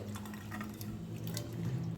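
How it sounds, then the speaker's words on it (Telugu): Water sloshes and splashes in a container as Bombay duck fish are rinsed by hand in plain water, with a low steady hum underneath. "ఒకసారి ఏమో నార్మల్ వాటర్తో కడుక్కుంటే సరిపోతుంది"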